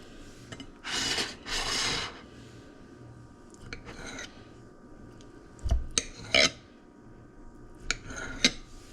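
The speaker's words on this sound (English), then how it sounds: "I'm going to cut it up according to how big you want your slices to be." Knife slicing through a block of tofu on a cutting board, a few soft scraping strokes followed by sharper taps of the blade against the board, close and quiet with gaps between cuts.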